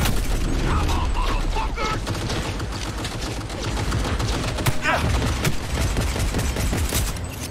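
Pistol shots in the video game Cyberpunk ring out in a dense, loud stretch of repeated gunfire mixed with mechanical clanks and rattles, with no pauses.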